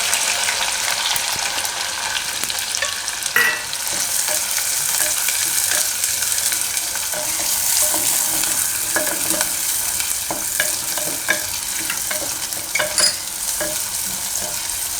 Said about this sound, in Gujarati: થોડીક વાર તેલમાં ડુંગળી ફેરવી લેવાની આ રીતે